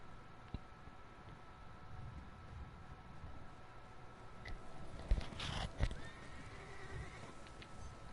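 A horse at a horse trader stable in a video game, giving a faint neigh and soft clip-clop of hooves, with a brief louder whinny in the middle over a quiet background.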